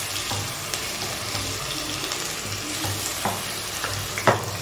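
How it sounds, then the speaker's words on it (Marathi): Capsicum fries in a little hot oil in a kadai for pav bhaji, a steady near sizzle with scattered scraping stirs and a sharper clatter near the end. "तेल अगदी थोडंसं गरम झालं की त्यामध्ये लगेचच आपल्याला शिमला मिरची टाकून घ्यायची."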